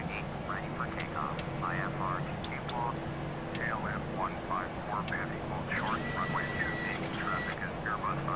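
Airbus A319 jet engines on a Delta flight at Chicago O'Hare in Flight Simulator X hum steadily for takeoff, a low continuous drone under someone talking.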